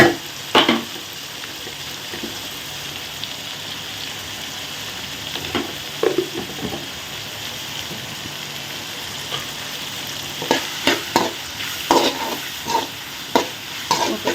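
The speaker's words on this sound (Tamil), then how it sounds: "தக்காளி பழம் வதங்கிறது" Tomatoes sautéing in a pan for a drumstick and potato curry, a continuous sizzle broken by repeated scraping stirs of a spoon, clustered more densely toward the end.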